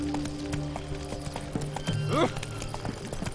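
Hoofbeats of Roach, the horse in The Witcher 3, pound in a quick galloping rhythm close by, with a whinny rising midway and faint speech and game ambience underneath.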